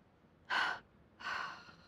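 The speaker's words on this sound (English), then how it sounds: "Deep breath in, 2-part exhalation again." Two separate breathy exhalations during a yoga session, the first a short forceful push and the second slightly longer and softer, close and alone.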